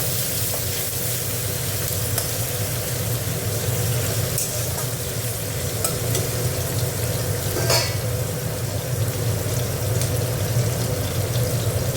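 Fish cooks in a pan for a simple home recipe, a loud, steady, dense sizzle of frying that continues unbroken throughout, with occasional faint clinks from stirring and no talking.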